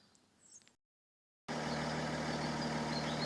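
Diesel engine of a Mercedes E320 CDI W211 kicks in after a short silence and idles steadily and loudly with a low, even hum.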